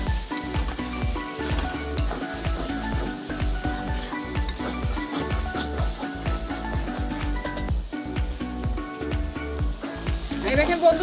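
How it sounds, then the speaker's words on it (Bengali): Taro stolons fry with shrimp in a pan, giving a constant loud sizzle with rhythmic stirring scrapes of a spatula repeating throughout. "এই যে চিংড়ি মাছ দিয়ে ভাজা ভাজা করছি"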